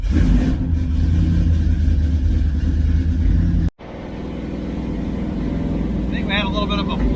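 A 1966 Dodge Charger V8 with a Holley 4150 carburetor and a fouled plug runs loud and close, a rough, uneven misfiring drone. It cuts out abruptly midway, then returns, while a voice talks near the end.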